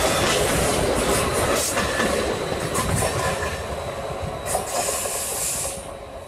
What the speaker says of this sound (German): Der letzte Personenzug, der am späten Abend aus Richtung Bergen ankommt, hat seine Fahrt fast geschafft.